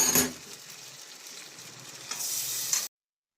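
Elephant foot yam and potato pieces fry in hot oil in a home kitchen, giving a steady close sizzle with brief scraping stir bursts at the start and near the end before the sound cuts off.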